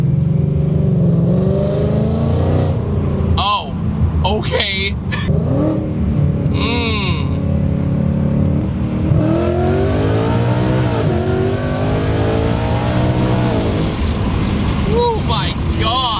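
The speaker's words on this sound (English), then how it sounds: "But with the long tubes, the car is so much louder." Ford Mustang with long-tube headers roaring on a dyno, loud and close, its engine note climbing and falling through repeated revs, with brief voices heard over it.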